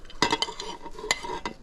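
A spoon stirring green seasonings into a shammi kebab mixture in a bowl, a handful of soft scrapes and light clinks at an uneven pace, close and quiet.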